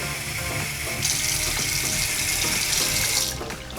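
Tap water runs steadily from a faucet into a cup, a continuous splashing stream that brightens and grows louder partway through before tapering off, close and alone with no talking.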